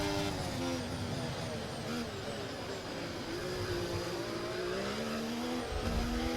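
Formula 1 race car in the F1 24 video game on PS5 accelerating sluggishly, a steady loud engine drone with rising and shifting gear tones throughout, faint tire squeal mixed in.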